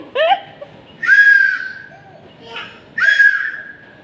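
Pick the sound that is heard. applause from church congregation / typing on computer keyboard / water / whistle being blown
whistle being blown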